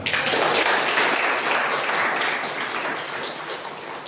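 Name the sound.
congregation clapping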